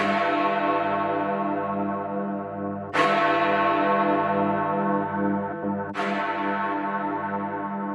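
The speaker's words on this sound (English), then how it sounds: "these quarter bells are followed by the hammer strike on the largest bell" A huge London clock tower bell strikes three times for the hour about three seconds apart, each deep hammer-struck clang ringing out and slowly decaying into a long resonant hum.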